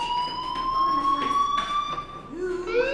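Fire alarm ringing in the video game Life is Strange, a steady high electronic tone with harmonics that holds for the whole stretch, loud and continuous, with faint voice-like sounds beneath it.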